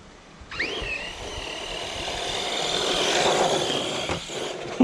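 Electric motor of an Arrma Outcast V2 RC monster truck on Redcat Kaiju MT tires whines up steadily during a slow-speed wheelie, a rising, sustained buzz that builds in intensity after a brief start, heard close with no talking.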